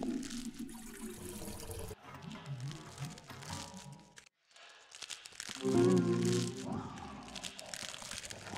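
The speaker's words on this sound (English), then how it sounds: "take your bucket and fill it up" Water splashing and pouring into a bucket in the video game Bulb Boy, a watery gush with crinkly textures that swells loudest near the end, heard alone without talk.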